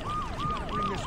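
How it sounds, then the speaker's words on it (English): A police car siren in the video game Saints Row 2 wails in a repeating rise-and-fall cycle, about three sweeps in quick succession, loud and steady with no talk. "A police car."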